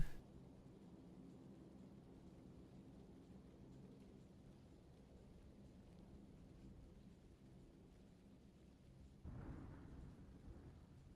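Thunder rolls low and steady in PUBG with a rain-like hiss, then swells into a louder rumble near the end.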